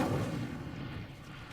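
An Incendio fire spell in Hogwarts Legacy bursts with a muffled, booming whoosh that rolls and fades over a second and a half, moderately loud, with no talk.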